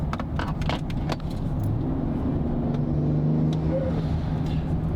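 A Ford Explorer ST engine with exhaust valves closed hums and builds steadily with a throaty intake growl, accompanied by faint light clicks and jingles nearby.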